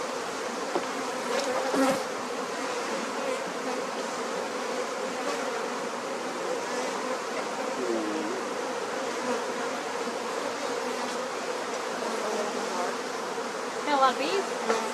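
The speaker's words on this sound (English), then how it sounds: "Got a lot of bees." Dense swarm of honeybees droning steadily around an open hive during a farm inspection after a bee kill, a continuous close buzz throughout with individual bees whining past near the end.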